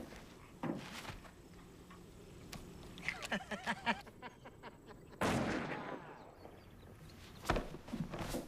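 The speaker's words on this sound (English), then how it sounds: "Were those gunshots?" A few sharp gunshot-like bangs at irregular intervals, some muffled and distant, with a brief burst of voice between them.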